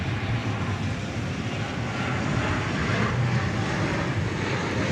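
An American Airlines jet in PSA retro livery roars at DFW Airport at night, its engines giving a loud, sustained broadband rush with low rumbling pulses.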